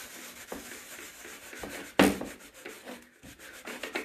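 A shop towel rubbed over a painted outdoor planter: quiet, close scrubbing strokes with one sharper, louder swipe midway.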